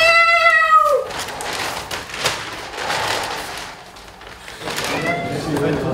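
A small cat meows once near the start with a clear, bright call, then a voice speaks over soft background noise and further faint sounds.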